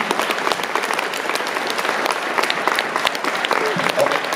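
An audience at a university speaker series event bursts into sustained, dense applause, loud and even throughout, with a few voices mixed into the clapping.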